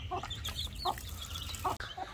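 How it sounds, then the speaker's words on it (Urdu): Chickens cluck repeatedly outdoors in a backyard coop area with chicks, several short clucks scattered over a steady low background hum. "مرغیاں تو پہلے ہی باہر آ چکی ہیں۔"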